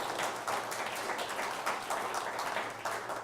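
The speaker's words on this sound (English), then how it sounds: "she deserves a round of applause" Sustained audience applause at a community presentation, steady dense clapping filling the whole stretch at moderate level without breaks.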